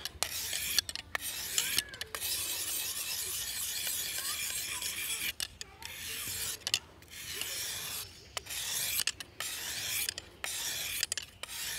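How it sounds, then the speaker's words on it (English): A knife blade is stroked repeatedly across a sharpening stone, a close, rasping scrape in steady runs broken by short pauses as the blade switches sides. "I'm just going to do a few strokes either side and then move on to the next stone"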